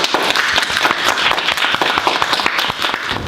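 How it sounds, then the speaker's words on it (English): A classroom audience claps for a volunteer named Giovanni, with dense, steady applause from many hands filling the whole stretch at close range. "Let's give him a round of applause."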